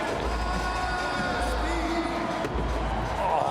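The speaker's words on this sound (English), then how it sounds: "You hear that crowd just raging." A large crowd roars continuously at a skateboarding bowl final, a dense, sustained wash of cheering with no break in intensity across the moment.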